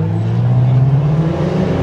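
Class B stock cars, a Mitsubishi and a Dodge Charger among them, race side by side in a spectator drag at Oxford, their engines a loud steady roar close by.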